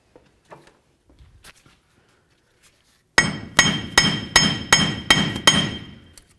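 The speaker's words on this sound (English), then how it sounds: "we're going to start separating the bearing from the knuckle itself" Hammer striking to separate a wheel bearing from a steering knuckle on a 1999-2007 Ford Super Duty F-250: after quiet shuffling, about eight sharp metallic blows land in a steady rhythm, close and loud.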